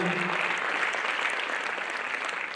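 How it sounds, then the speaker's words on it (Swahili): An audience claps throughout at a launch event for a music manual and artists forum, with dense, continuous applause and no speech over it. "Endeleeni kujipigia makofi tafadhali."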